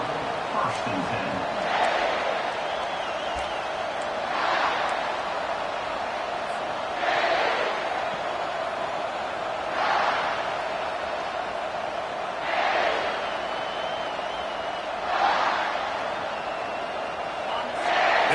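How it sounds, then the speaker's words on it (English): A stadium crowd at a Texas football game roars in a steady, dense wash of noise, swelling in regular surges every few seconds like rhythmic chanting, with announcers faintly talking underneath. "listen to this crowd coming through"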